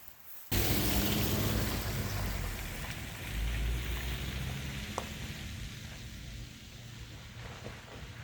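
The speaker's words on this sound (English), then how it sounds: "It is raining" Rain pours steadily in a constant wash of hiss at a roadside construction stop in a Jeep, close and moderately loud, with an occasional small tap or drip standing out.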